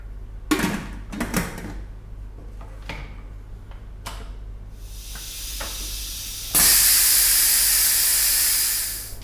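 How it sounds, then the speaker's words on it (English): A pressure cooker cooking camel meat: a few sharp clicks and taps, then a growing steam hiss that bursts into a loud, steady, close jet of venting steam before easing off, no speech. "once it reaches pressure, I'm going to let it go for about 8 or 9 minutes"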